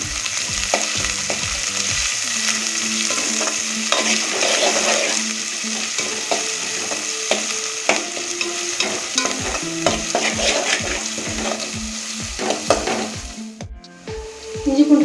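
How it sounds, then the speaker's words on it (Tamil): Ginger garlic paste sautéing in a pan on low heat for mutton kulambu, with a constant sizzle and regular scraping knocks of a spoon stirring against the pan, briefly quieting near the end. "இப்போ இஞ்சி பூண்டு பேஸ்ட்டு சேர்த்த பிறகு அடுப்பை சிம்மில் வச்சு பச்சை ஸ்மெல் போகிற அளவுக்கு நல்லா வதக்கிடுங்க"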